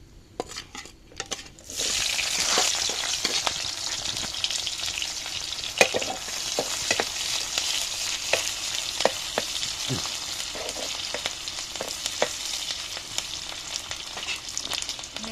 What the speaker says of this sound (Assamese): এতিয়া মাছৰ এই তেলখিনিতে লাই শাকখিনি ভাজিম পিঁয়াজ জলকীয়া দি দিওঁ